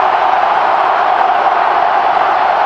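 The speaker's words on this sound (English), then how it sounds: "Now the crowd can get into it, and they are." Dense, steady roar of a football stadium crowd cheering at an LSU home game against Ole Miss, a broad sustained wall of voices with no breaks, loud and enveloping.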